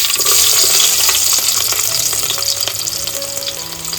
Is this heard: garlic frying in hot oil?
yes